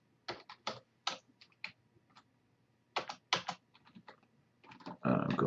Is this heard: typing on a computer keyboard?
yes